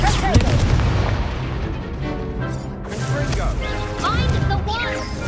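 A Confringo explosion spell in the Hogwarts Legacy video game erupts as a loud booming blast over layered battle effects, with a brief voice near the start.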